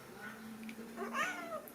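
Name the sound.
cat meowing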